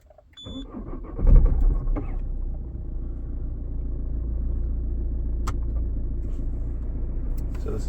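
A car starts up and idles with a low, steady engine rumble as it is moved back down a home driveway. A brief mechanical whir sounds near the start.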